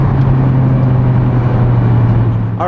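A Mitsubishi Evo 9 MR wagon pulls hard under acceleration, its engine a loud, steady drone throughout, close and filling the cabin with no voices over it.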